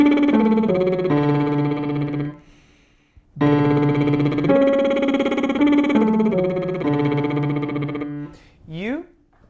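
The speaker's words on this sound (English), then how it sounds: "First with a lip trill, sounds like this." Singer performing a buzzy lip trill through a wide major-seventh interval exercise, two sustained pitched phrases separated by a short pause, ending with a quick upward slide.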